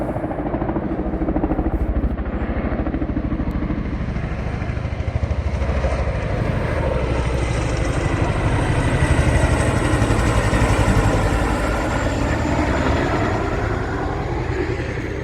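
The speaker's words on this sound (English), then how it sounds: "Chinook going through late at night. 6:30 at night and I get a Chinook coming through." Chinook twin-rotor helicopter passing low through the Mach Loop valley at night, a steady loud rotor chop and engine drone sustained over fifteen seconds, swelling slightly midway.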